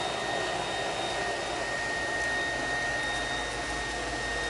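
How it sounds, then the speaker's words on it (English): The suction motor of a Deebot D35 robotic vacuum runs with a steady, airy whine and rushing hiss, close and constant throughout, with no talk. "you can hear that suction motor"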